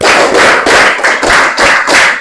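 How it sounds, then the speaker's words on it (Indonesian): A class of schoolchildren claps together in a rhythmic counted pattern, with sharp, loud bursts of clapping repeating in close, even groups. "Konsentrasi, tepuk 1, tepuk 2, tepuk 3, tepuk 4, tepuk 3 2 kali."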